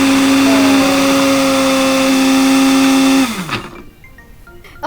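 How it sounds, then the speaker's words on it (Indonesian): Electric food chopper grinding a wet spice paste with oil: a loud, steady motor whine that runs for about three seconds, then spins down and stops, leaving near silence. "Kita akan chopper bumbunya, langsung kita haluskan gitu ya."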